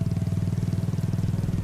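Motorcycle engine running at a steady, throbbing pulse on a dark highway in a horror tale, the rider easing off the speed; loud, close and continuous with no voices.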